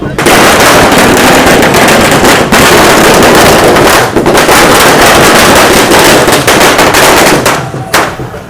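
Loud, dense crackling and popping of fireworks, continuous and harsh, with sharp bursts standing out from a roaring crowd-like wash.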